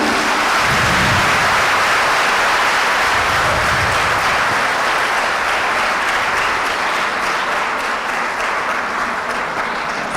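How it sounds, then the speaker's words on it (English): Students at a university Women's Day 2023 event give a 91-year-old speaker a long round of loud, dense applause that continues without a break for about ten seconds. "I request all the students, please give a big clap to madam."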